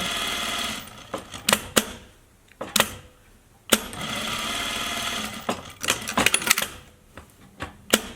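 A sewing machine stitches fabric for a homemade face mask in short, loud bursts of rapid mechanical whirring separated by pauses, the stop-start runs close and alone with no speech.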